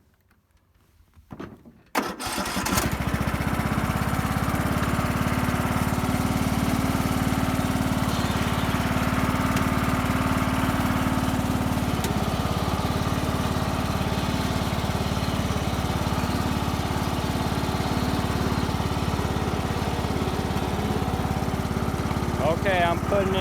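A racing lawnmower with its mower deck removed starts up, then its engine runs loud and steady at high revs for the rest of the clip, with a brief rough sputter at the start.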